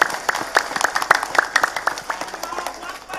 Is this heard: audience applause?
yes